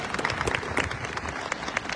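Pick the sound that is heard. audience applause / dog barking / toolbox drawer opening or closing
audience applause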